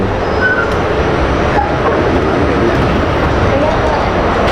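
An old New York City subway train, the kind with orange seats, gives a steady loud rumble and rattle that continues through the whole stretch, with no pause and no voices over it.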